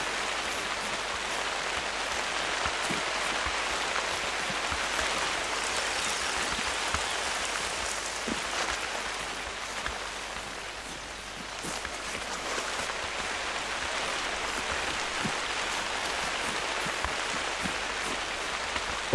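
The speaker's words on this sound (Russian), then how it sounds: "Хороший дождик пошел." Steady rain falls in the hunting game theHunter Call of the Wild, a continuous even hiss of drops with faint patters throughout, no voices.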